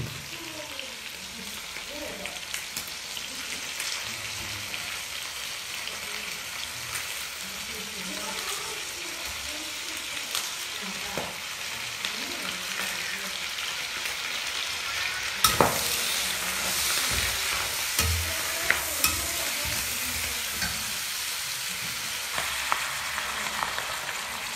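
Pork belly stir-frying in oil in a wok, a steady close sizzle with scraping and stirring throughout and occasional clatters, while someone talks now and then.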